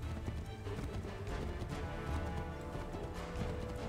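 A horse gallops in the video game Assassin's Creed 3, its hooves making a steady, quick clip-clop rhythm. The sound is fairly quiet and continuous, with game sound layered under it.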